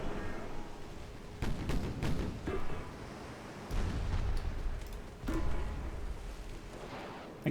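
Ship cannons firing in a Byzantine Empire naval battle video game, heard as several heavy booming blasts in separate bursts, loud and close, with rumbling tails between shots.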